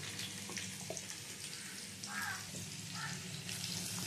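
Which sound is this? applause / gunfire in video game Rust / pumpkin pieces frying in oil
pumpkin pieces frying in oil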